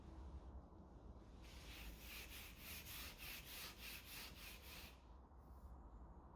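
Sandpaper rubs over dried polyurethane-finished wood to knock down raised grain, a steady scratchy back-and-forth rasp of quick even strokes, close and fairly quiet, stopping after a few seconds.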